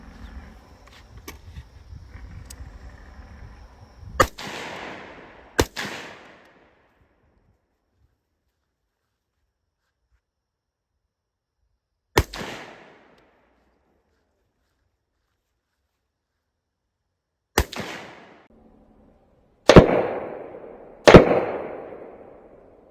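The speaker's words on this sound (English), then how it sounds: "So I just want 4 solid and smooth shots." Pistol shots fired at a paper target during reload practice ring out as several sharp, loud cracks with brief decaying echoes, some spaced seconds apart and others closer together, with near-silence between them.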